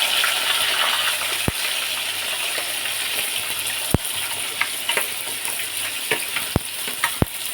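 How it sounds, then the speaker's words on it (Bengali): Pointed gourd (potol) frying in a pan for khichuri, a steady loud sizzle with intermittent sharp clicks and scrapes of a spatula against the pan, no voices. "এখানে এবার পটলটা ভেজে নিচ্ছি"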